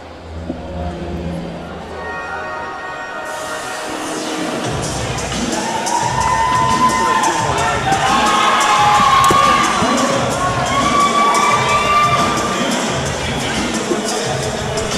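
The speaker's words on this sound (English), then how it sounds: "please make some noise for Dylan, the Demon Child Large." A crowd at a kickboxing event swells into loud cheering, whooping and shouting after a brief announcer's voice, building to a sustained roar that lasts to the end.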